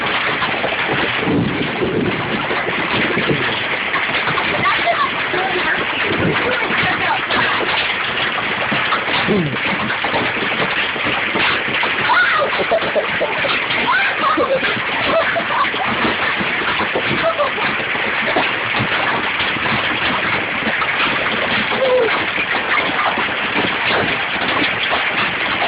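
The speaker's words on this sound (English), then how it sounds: "I've never seen a hailstorm like this. It's not even raining." Large hailstones, some bigger than golf balls, pounding down in a storm without rain, a dense continuous clatter and roar throughout, with a voice speaking at times.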